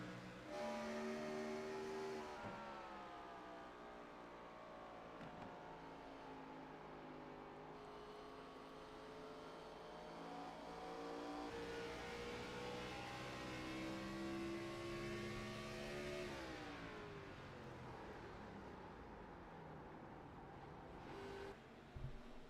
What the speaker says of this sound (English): You hear how he cuts the clutch in, just brings the revs in the engine to 0